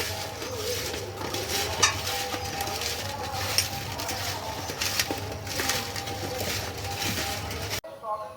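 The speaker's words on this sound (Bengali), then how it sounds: "দিয়ে দিয়ে আমটা একটু মেখে নেবো হাত দিয়ে" Mango pieces are mixed by hand with salt and turmeric, making close, steady squishing and stirring sounds with a few small clinks, continuing throughout.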